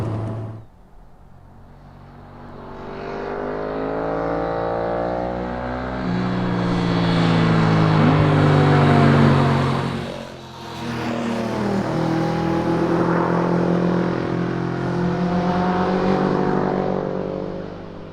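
A Lotus Elise sports car with 200 horsepower being driven, its engine droning and rising steadily through the gears from inside the cabin, with a brief dip before building again.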